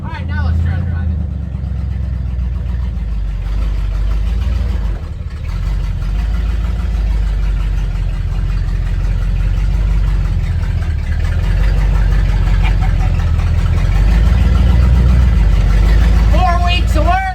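A tow van's engine runs steadily with a low, rumbling drone as the vehicle pulls away and begins driving, the note rising slightly toward the end; the sound is continuous, with voices heard faintly underneath.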